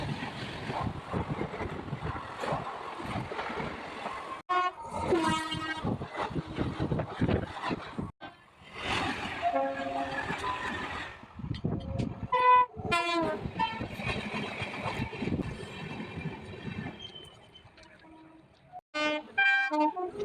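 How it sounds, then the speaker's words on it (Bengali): Express, EMU local and MEMU trains rumble and clatter past one after another, with a horn sounding and rhythmic wheel clicks over rails, loud and close, with brief lulls between passes. "express train AMU local train আর মেমু ট্রেনের ছুটে চলার কিছু মুহূর্ত"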